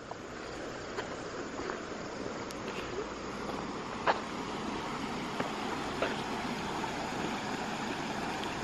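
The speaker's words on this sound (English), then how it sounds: "Some nice water down there." River water flows beneath the former site of a covered bridge in East Corinth, Vermont, a soft, steady broadband rush heard from above, with a few faint clicks and small sounds scattered over the constant wash.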